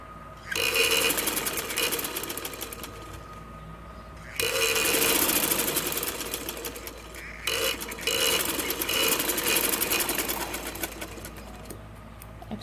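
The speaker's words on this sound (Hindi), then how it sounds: "ये ऐसे हम ये भी सिलाई लगा लेंगे" A sewing machine stitches a small girl's sleeveless cotton inner in long, steady whirring runs separated by brief pauses, loud and close, with no talking over it.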